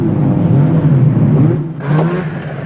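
Off-road race cars in the 1990 Nissan 400 at dusk, engines droning and revving close by, with a second car surging past near the end, loud and without talk.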